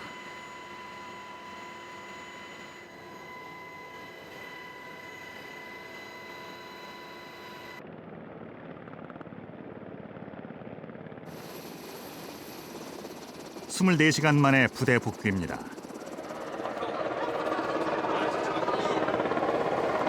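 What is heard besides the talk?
military rescue helicopter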